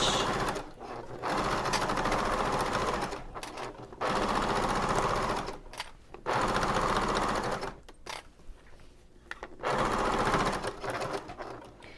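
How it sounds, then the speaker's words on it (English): A sewing machine with a Teflon foot runs a long basting stitch on a bag lining. It whirs steadily in several loud bursts of one to three seconds each, separated by short pauses, with no talking. "going to leave on my Teflon foot and use a basting stitch"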